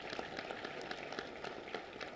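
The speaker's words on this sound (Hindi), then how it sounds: "हम सब एक बार जोरदार तालियों के माध्यम से व्यक्त करेंगे" Steady applause from a gathered audience at an official ceremony, a dense patter of many hands clapping, moderately distant and fairly faint throughout.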